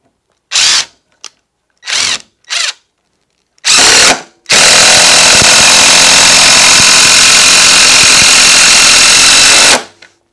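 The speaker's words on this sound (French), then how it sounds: "C'est autour de la visseuse à choc, on va voir comment elle va se comporter." Cordless impact driver driving a screw into a hard material: several short whirring trigger bursts, then a long sustained loud run of about six seconds with rapid hammering impacts, very close.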